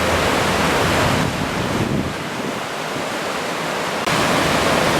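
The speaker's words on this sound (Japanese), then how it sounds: "この辺りには少し波が立ってますね。" Surf rolls in on Kamakura's Zaimokuza beach after a typhoon, a loud, broad wash of breaking waves and wind that eases slightly midway and then surges back.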